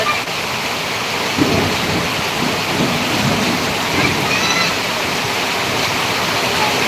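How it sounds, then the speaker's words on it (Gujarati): A strong thunderstorm with heavy rain over a village: a loud, constant downpour with low rumbles of thunder rolling underneath, no voices heard. "વીજળી સાથે વરસાદ પડી ગયો છે જબરજસ્ત"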